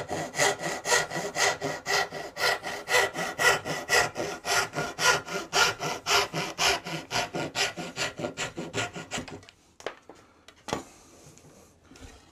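A hand saw cuts through oak in a steady run of quick rasping strokes, close and clear, for about nine seconds before stopping, followed by a few light knocks and handling sounds.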